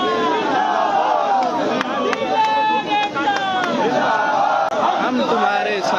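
A large crowd of protesting D.El.Ed students fills the air with loud, continuous shouting and chanting voices, dense overlapping babble with sharp cries breaking through throughout.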